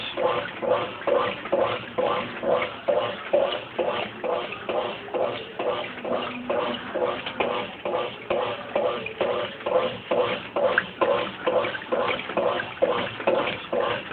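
A Brastemp Baby Mondial washing machine agitates a load in cold water, with a steady rhythmic sloshing and churning that repeats about once per second throughout.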